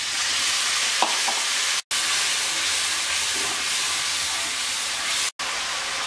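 Water added to onion and ground spices frying in a pan produces a continuous hissing sizzle, close and steady, with a couple of brief cuts in the sound and no talking.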